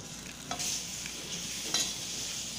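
Seasoned beef fries in olive oil in a pan, and bright sizzling continues throughout. A few clicks and scrapes from stirring stand out close by, with no one talking.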